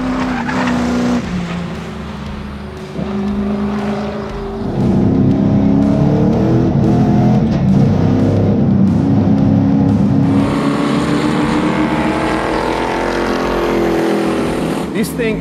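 A V8 SuperUte race car with a stock LS3 V8 roars loudly, revving and accelerating with tire squeal, getting louder and closer midway before easing off, while a person talks over it.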